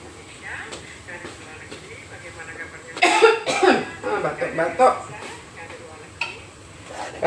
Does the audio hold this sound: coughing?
yes